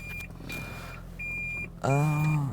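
A thin, high electronic beep sounds repeatedly in short pulses under a car's low hum, then an engine revs up loudly near the end.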